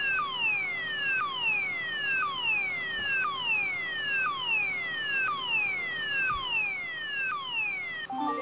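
Repeating electronic fire alarm from a triggered hospital fire detection system in the firefighting video game Emergency, a steady series of descending beeping tones over a constant hum, loud and unbroken with no talk.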